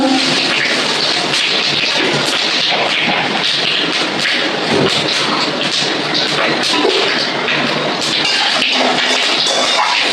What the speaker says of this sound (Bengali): তেল গরম হয়ে গেছে, আমি দুটো শুকনো লঙ্কা তেজপাতা দিয়ে দিলাম, 5 ফোড়ন দিয়ে দিলাম।